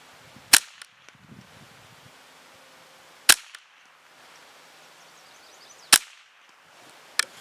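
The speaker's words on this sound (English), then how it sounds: "So let's fire a few shots." Walther Model 1 .22 rifle fired semi-automatically, four sharp, loud cracks spaced a few seconds apart with quiet between them.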